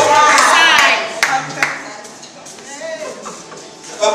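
A church congregation claps to acclaim Jesus in a short burst of loud, close applause that fades into scattered claps, with a preacher's voice speaking over it.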